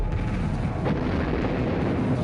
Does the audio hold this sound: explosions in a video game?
yes